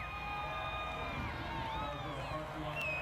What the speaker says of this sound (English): this crowd appreciating not only what these drivers do, but how safe these cars really are